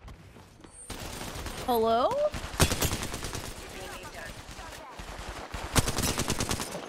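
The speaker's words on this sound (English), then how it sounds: "Motherfucker's shooting at me." Rapid bursts of automatic gunfire in the video game Apex Legends crackle over game sounds and a talking player, with dense fusillades in the second half, moderately loud.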